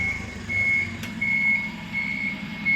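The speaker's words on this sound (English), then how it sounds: "We will put the forklift in reverse. You will hear our warning systems going." Reversing warning beeps from a forklift during an after-start check, a steady series of high electronic tones repeating over a low engine idle, with one brief click partway through.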